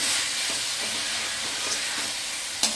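Chicken masala frying in sesame oil in a pan, giving a steady, even sizzle and hiss throughout with a few faint clinks and one sharp tap near the end.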